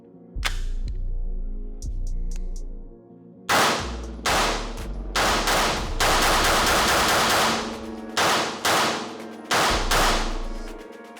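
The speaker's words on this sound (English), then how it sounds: "that roller delay back system, definitely pretty nice, really smooth when you're shooting it" An Angstadt MDP-9 roller-delayed 9mm firing outdoors, loud and close: a few single shots, then rapid strings of sharp cracks in quick bursts, each ringing out briefly between volleys.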